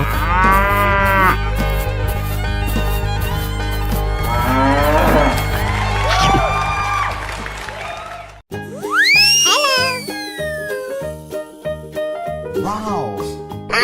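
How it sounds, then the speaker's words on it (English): Loud cartoon-style cow moos over a bouncy children's music track, first a long low moo, then after a brief break a rising moo with playful sound effects and steady rhythmic backing. "Cow."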